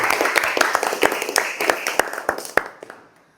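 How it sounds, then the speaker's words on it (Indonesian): Lively applause from a classroom of students for a classmate, a quick burst of distinct claps that thins out and stops after about three seconds, close and fairly loud. "berikan tepuk tangan yang meriah untuk teman kita"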